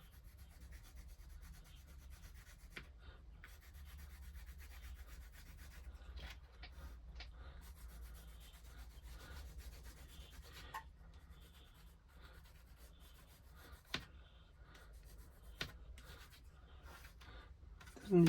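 A pencil rubs steadily across wooden deck planks of a 1:84 scale Artesania Latina Santisima Trinidad model ship, a soft continuous scratching with occasional light taps, close and quiet.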